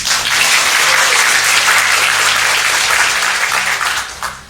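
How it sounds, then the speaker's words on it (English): Audience applause for the coaching staff at a high school cross-country awards night, a steady dense round of clapping from a large crowd filling the whole stretch before tapering slightly at the end. "if you could do a round of applause for the coaching staff, please"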